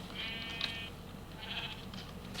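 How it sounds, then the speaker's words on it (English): Minecraft Beta 1.7.3 sheep bleating, two short nasal wavering bleats close by with a faint pause between them. "Hey, leprechaun sheep."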